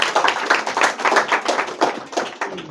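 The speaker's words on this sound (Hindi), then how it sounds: "दिव्यांशी शुक्ला के लिए पहले जोरदार ताली बजाओ तुम लोग भैया।" An audience of students at a board-exam preparation session claps steadily, a dense close-up patter of many hands that keeps going without pause.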